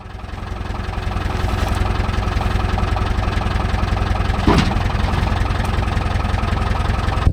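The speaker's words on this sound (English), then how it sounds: "That bearing is gone at the front of the diff. That'll be why it's so noisy." A Suzuki SJ410 4x4 with a worn front differential bearing runs at a steady idle, a close, loud low chugging rumble with a rhythmic mechanical pulse and a single brief clunk partway through.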